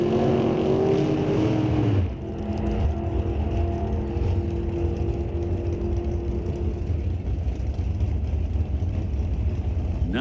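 A Chevrolet Corvette Roadster launches at a drag strip with a loud, sustained engine roar; another car is heard from about two seconds in, and the sound holds steady and strong to the end with no talk.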